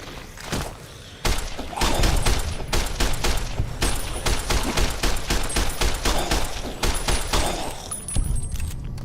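Rapid automatic gunfire from an Apex Legends match crackles in dense bursts nearly throughout, loud and close, with brief gaps between volleys and a quieter stretch at the start.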